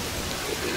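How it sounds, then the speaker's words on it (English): Heavy rain in the video game A Plague Tale Requiem, a dense, steady downpour hiss filling the scene, loud and continuous. "It's raining a lot."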